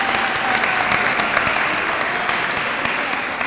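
Sustained applause from an audience at a public meeting about a plant fire, dense steady clapping holding at an even level throughout without a break.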